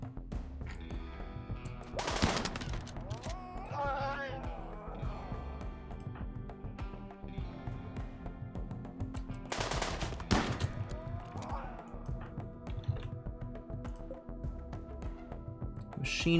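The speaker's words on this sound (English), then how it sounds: "Machine pistol." Machine pistol fire in RimWorld, two sharp bursts of rapid gunfire a few seconds apart over a steady game-music bed, loud and close.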